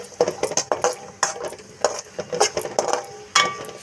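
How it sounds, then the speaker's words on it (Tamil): Cashews and raisins roasting in ghee in a pan, heard as quick clinks and scrapes of a spoon stirring against the metal in irregular bursts, close and fairly crisp, with a faint sizzle underneath. "கொஞ்சம் நெய்யில் வறுத்துக்கலாம்."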